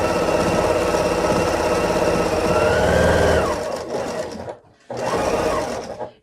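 A household sewing machine stitches steadily at close range with a continuous whirring motor hum, slows and pauses briefly, then starts again for another short run.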